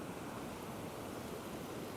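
Sea waves break and surge steadily along a coastline, a continuous broadband wash of surf with no pauses, moderately loud and close, with no voices.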